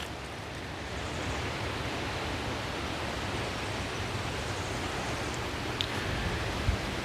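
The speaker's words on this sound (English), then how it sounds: "It's just the rustle of trees, or rustle of wind through the trees" Wind rustling through the trees along a rocky, rooted forest trail in St. Francois State Park, a steady, broad hushing wash that swells slightly after the first second and holds evenly, with a faint snap near the end.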